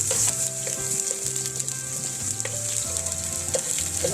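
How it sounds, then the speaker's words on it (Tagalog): Onion sautéing in hot oil for a Waray-style ampalaya ginisa, a steady close sizzle with occasional stirring, while a tonal musical backing plays underneath throughout. "magigisa na tayo ng unahin natin ang sibuyas"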